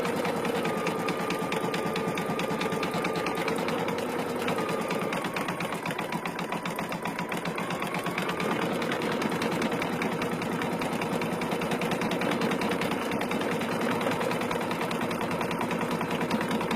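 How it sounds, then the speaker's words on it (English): An embroidery sewing machine stitches on soluble stabiliser, its rapid needle chatter steady and close throughout, with a whining motor tone that shifts pitch now and then. "I find it terribly fascinating watching it embroidered on the soluble stabiliser, because you can see the bobbin moving inside"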